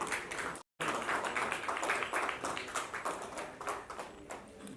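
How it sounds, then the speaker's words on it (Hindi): A press conference audience gives a standing ovation to welcome a guest. Steady, moderately loud clapping from many hands continues after a brief cut near the start. "एक बार आप सब स्टैंडिंग ओवेशन और जोरदार तालियों से अनु सर का स्वागत करें।"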